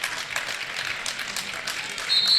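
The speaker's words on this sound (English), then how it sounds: "He gets a nice ovation" Spectators at a girls high school basketball game give a crowd ovation, with dense clapping filling a gym and a brief high whistle-like tone near the end.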